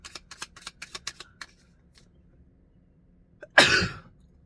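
One loud, close sneeze bursts out near the end, preceded by a quick series of soft clicks or taps and then near silence.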